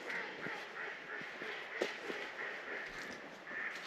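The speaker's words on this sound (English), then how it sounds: "There's some ducks having some sort of squabble over there." Ducks quack back and forth in a noisy squabble some distance away, faint and scattered over a soft outdoor winter woodland background.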